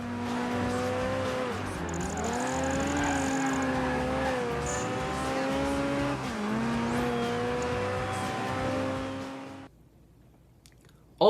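A supercharged Ariel Atom 300 races in Project Gotham Racing 3, its engine note whining and climbing through gear changes with tire noise, loud and continuous before cutting off abruptly near the end.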